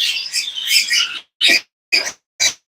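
A male pet bird chirps near a breeding box, a rapid chatter of high notes over about a second, then three short separate calls spaced evenly, loud and close.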